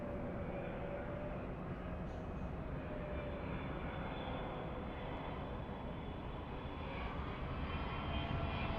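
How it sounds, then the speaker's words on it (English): A Boeing 777 airliner on short final approach roars steadily overhead near a busy airport, a broad continuous jet engine rumble and whine holding loud throughout with no talking. "777 on short final."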